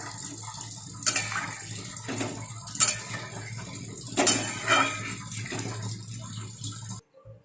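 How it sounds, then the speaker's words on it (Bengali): Mustard-chili paste going into a pan for a small-fish curry with taro, heard as several clinking utensil scrapes and taps against metal over a low wet background hum. "এবার এই সর্ষে লঙ্কা বাটাটা দিয়ে দেবো এরকম করে"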